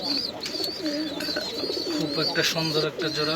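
A pair of khaki pigeons coo softly in short repeated calls close by, with someone talking over them throughout.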